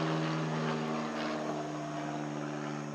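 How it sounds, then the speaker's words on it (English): An airplane passes overhead above a calm morning garden, a continuous droning engine rumble with a steady low hum that stays loud and even throughout. "Sorry for this airplane"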